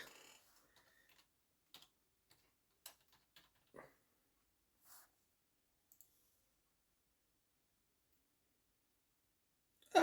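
Sparse, irregular key clicks and taps with pauses between them, fairly quiet, ending in a sudden louder burst of noise.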